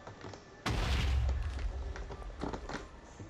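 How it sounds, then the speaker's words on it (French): A grenade goes off in the video game InvasionZ, one sudden heavy boom that rumbles for about half a second and then decays into a few scattered thumps and pops, with no talking. "Oh, fais gaffe, j'ai lancé une grenade"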